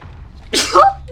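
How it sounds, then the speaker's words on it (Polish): One sharp human sneeze, close and loud, a quick breathy intake followed by an explosive burst, over a quiet low background hum. "Ale zaraz kichnę."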